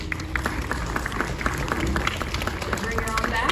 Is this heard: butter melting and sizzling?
no